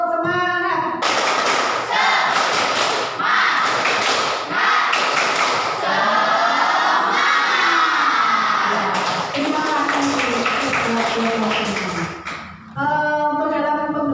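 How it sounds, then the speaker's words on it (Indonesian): Schoolchildren in a classroom chanting a tepuk semangat clapping cheer, loud sung voices over rhythmic bursts of clapping, close and lively, with a short pause near the end before the chant resumes. "mari kita bertepuk semangat dulu ya anak-anak ya"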